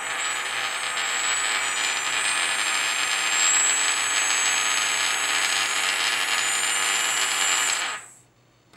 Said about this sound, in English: only one motor was going